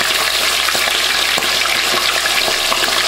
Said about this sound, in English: Be careful because the oil will pop.